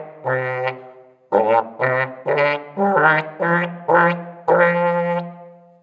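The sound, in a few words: imitation of young brass player's restricted tone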